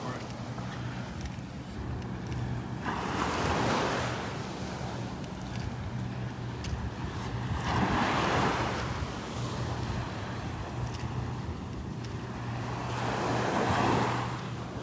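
Rough surf at Delnor-Wiggins beach on a windy morning rolls in as three big breaking waves, each swelling to a loud crash and then draining back, over a constant roar of water and wind buffeting the microphone.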